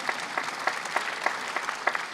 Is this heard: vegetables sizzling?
no